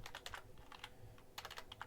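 Code being typed on a computer keyboard: quick clusters of close, crisp key clicks in uneven bursts with short pauses between them, quiet and alone.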